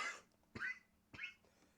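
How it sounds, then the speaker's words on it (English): Someone coughs three times in short, dry bursts about half a second apart, faint and close, with nothing else around them. "I apologize. I got a cough."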